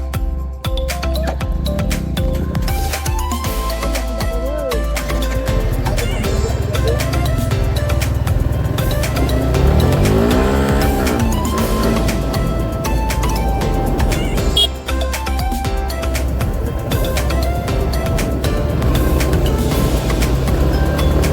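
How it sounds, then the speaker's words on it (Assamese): A motorcycle with a quick shifter and traction control is ridden: a continuous engine drone with wind rush, rising in a clear rev sweep near the middle, with no speech. "মই ইয়াৰ বাইকখন এবাৰ চলাই আপোনালোকক দেখাই আহোঁ"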